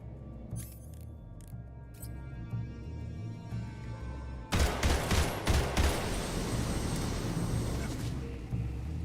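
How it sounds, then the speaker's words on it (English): Gunfire in a Metal Gear video game, with a few sharp shots early on, then a burst of rapid cracking fire that erupts midway and continues in quick clusters, loud and close. "I feel like I shoot more accurate 3-round bursts single fire mode than in the actual burst fire mode"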